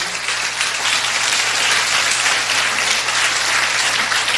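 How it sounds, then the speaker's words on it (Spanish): Church congregation applauding during a Spanish-language worship service, a steady dense wash of many hands clapping at once, loud and continuous throughout with no speech over it. "Podemos darle un aplauso al Señor esta mañana."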